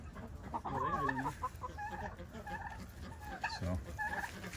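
Several chickens, including a thick-bodied Blue Splash Marans hen, cluck and call in a busy coop, the clucks loud and close in repeated bursts over a steady farmyard background.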